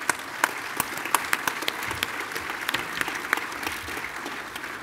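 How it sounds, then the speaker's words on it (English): An audience at a naval defense conference applauds a panel, a steady wash of many hands clapping at moderate distance, with a few sharper individual claps standing out, no talking over it. "I think the panel deserves a round of applause"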